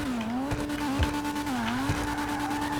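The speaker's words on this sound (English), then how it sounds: "So let's give it a rev." A custom Dinka RT3000 from GTA 5, styled after the Initial D S2000, revs its engine in a steady rising and falling drone with a few quick dips in pitch, close and fairly loud, with no talk over it.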